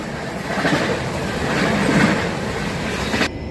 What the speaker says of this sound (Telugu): ఇప్పుడేమో ఫలక్నామా ఓవర్టేక్ చేస్తుంది యలమంచిలి రైల్వే స్టేషన్లో.